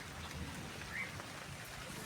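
Monsoon rain falling in the Konkan countryside, a soft, steady hiss of drops on leaves and ground, faint and even with no voices.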